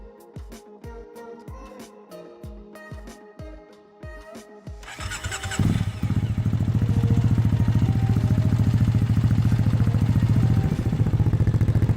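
A Triumph Thruxton 900 motorcycle fitted with an Arrow 2-into-1 exhaust cranks with a rapid rhythmic starter clatter, then catches and settles into a loud, steady, deep idle close by.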